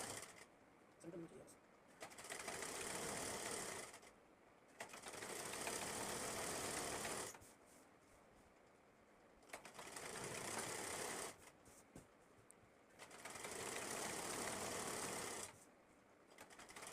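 A sewing machine stitches an umbrella-style plazo, running in several long whirring bursts of a few seconds each, separated by short pauses, close and steady.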